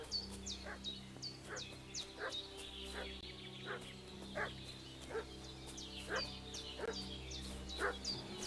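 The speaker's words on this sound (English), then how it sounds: "What's that dog making such a fuss about?" Dog barking repeatedly in the medieval role-playing game Kingdom Come: Deliverance II, a steady run of sharp barks over a low ambient hum with birdsong in the background.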